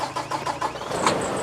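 A large truck's engine cranks and catches, then settles into a steady mid-pitched rumble that grows slightly louder, fairly close and without talk.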